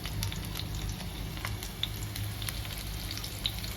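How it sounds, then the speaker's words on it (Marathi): Grated coconut, garlic and onion sautéing in a pan, a steady close sizzle with faint scattered ticks and crackles throughout, no voices. "इथे खोबरं, लसूण आणि कांदा चांगला परतून घेतलेला आहे"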